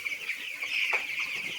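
Broiler chicks, about 16 days old, clucking and peeping steadily as a dense flock of around a thousand birds in a poultry farm shed, a continuous close chorus with no talk.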